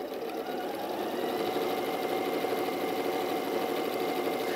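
A sewing machine stitches a quarter-inch seam while its operator stands, its motor humming continuously and fairly steadily throughout.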